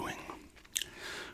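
Gum is chewed right at the microphone, with soft wet smacks and a couple of sharper clicks, quiet and intimate, while a voice murmurs faintly in the background.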